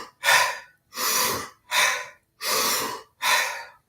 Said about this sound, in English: Hold big inhale in.